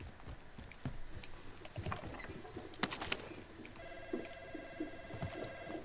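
A telephone rings inside the Call of Duty: Modern Warfare game, a steady repeating electronic tone that starts partway through and keeps going over gunfire and game noise.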